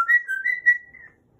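An African grey parrot whistles a short run of clear, wavering tonal notes, fairly close, the last note trailing off into silence.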